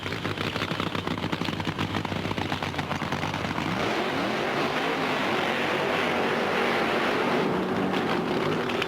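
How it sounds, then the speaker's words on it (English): A nitro-fueled funny car at a 1996 NHRA drag race makes a continuous, thunderous crackling engine roar that fills the whole stretch, loud and steady with a slight shift in tone partway through. "It is now time to pound the ground and smoke the tires with the fuel coupes"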